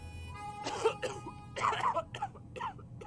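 A character in the post-apocalyptic survival game 60 Seconds! Reatomized coughs in several short, rough bursts of moderate volume, with a faint steady hum underneath.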